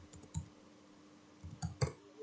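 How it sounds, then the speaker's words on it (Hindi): Soft, quiet clicks of keys as a password is typed on a computer keyboard to log in to a Linux system, in a few scattered bursts over a faint steady hum. "पासवर्ड यहाँ पर डालेंगे"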